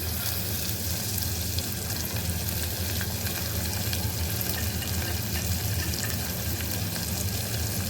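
Val beans in a Konkani-style birde curry with drumsticks are stirred in a pot over a high gas flame, giving a continuous close sizzle and frying hiss with soft scraping.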